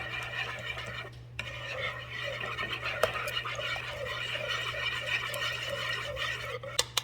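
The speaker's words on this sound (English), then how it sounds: "Just whisk it up some more" Milk being whisked into cake batter in a bowl for an orange upside-down stovetop cake: a steady, close, rapid scraping and swishing of the whisk against the bowl with occasional light clicks, under a low hum.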